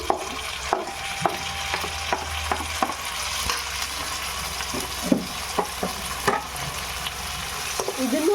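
Tomatoes frying in a pan with steady sizzling and repeated stirring knocks of a spoon against the pan, close and continuous.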